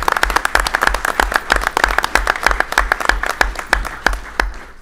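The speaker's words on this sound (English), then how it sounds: "we can have a round of applause for Coach for doing such a great job" A small group applauds a coach at a school board meeting, loud close claps in a quick, fairly regular rhythm that stop abruptly just before the end.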